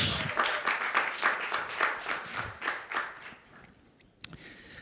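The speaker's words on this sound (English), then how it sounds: "Big applause." Applause for a presenter at a Blue Economy pitch competition, a moderate round of clapping from a modest audience that tapers off after about four seconds, ending with a sharp single knock.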